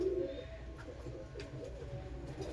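Pet pigeons kept in a loft, giving soft low cooing calls, one clear coo at the start followed by fainter murmuring coos nearby.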